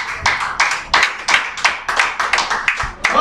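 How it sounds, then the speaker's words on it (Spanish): A church congregation claps in a steady rhythmic beat, loud and close, each clap sharp and evenly spaced, with no talking over it. "Aplaudan a Dios si usted quiere aplaudirle"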